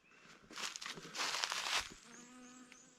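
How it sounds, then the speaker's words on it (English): A bee buzzes around blackberry bramble flowers on a forest trail in Alabama's Sipsey Wilderness, a close, wavering hum lasting a couple of seconds with some rustling, fading toward the end. "There's a bee on it."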